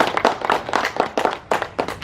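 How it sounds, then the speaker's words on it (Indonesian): A parish congregation clapping again, louder on request: a thick crowd of hand claps with sharp, irregular bursts that surge and dip briefly near the end. "Kita tepuk tangan sekali lagi ya."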